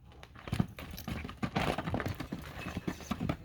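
Hooves clop unevenly over the ground at close range, a shuffling walk with scattered thuds and rustles.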